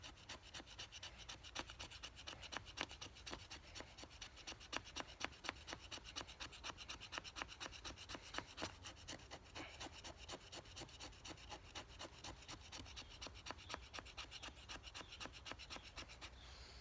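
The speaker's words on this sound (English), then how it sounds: "collect even more shavings of this fat wood" A knife spine scrapes fatwood into fine shavings outdoors in snow, a quick, regular run of rasping strokes that goes on steadily, close but very quiet, with no voices.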